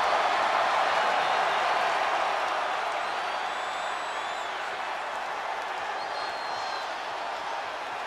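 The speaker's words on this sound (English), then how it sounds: "Getting the crowd fired up here." A wrestling arena crowd in the WWE 2K22 video game cheers and applauds as a steady, broad roar throughout, slowly easing in loudness, with faint whistles on top.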